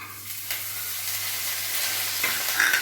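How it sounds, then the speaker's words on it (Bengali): Carrots and beans frying in oil in a wok for hakka noodles, with a steady close sizzle rising slightly, a couple of spatula scrapes and a low background hum. "আগে এই দুটোকে আমি ভালোভাবে একটু ভেজে নেব।"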